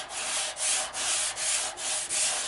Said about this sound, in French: je ponce plus sur la zone à poncer. Mon tampon est incliné légèrement